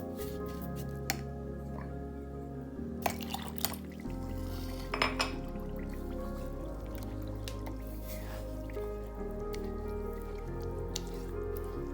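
Warm water is poured into semolina (rava) batter for instant appam, giving soft dripping and splashing against a steady low kitchen hum, with a few clinks of utensils.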